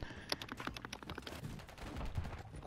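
Gunfire in Call of Duty MW3 multiplayer, a run of sharp, quiet cracks and short bursts scattered unevenly, heard faintly and somewhat distant without talk.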